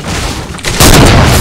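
Gunfire in Fortnite tears at a wall, building from a rough rumble into a loud burst of heavy booming shots that continue to the end.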